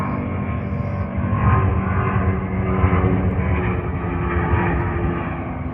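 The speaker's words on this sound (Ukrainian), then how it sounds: "Це тільки літаки заважають, я виключусь поки." A steady, loud low rumble of a propeller airplane engine droning overhead, continuous throughout with no voices.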